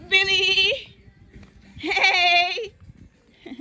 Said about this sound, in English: This is Billy the goat.